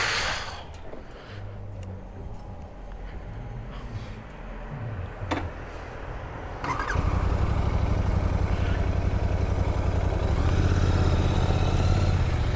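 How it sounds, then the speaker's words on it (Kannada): Royal Enfield Continental GT 650 motorcycles setting off on a group ride: scattered clicks and handling noises give way to a steady, close, low engine rumble that swells and holds for the rest of the clip. "ನಮ್ಮ ಬೈಕ್ನ ಹತ್ತಾ ಇದ್ದೀವಿ. ಇಲ್ಲಿಂದ ನಮ್ಮ ರೈಡ್ ಸ್ಟಾರ್ಟ್ ಆಗುತ್ತೆ"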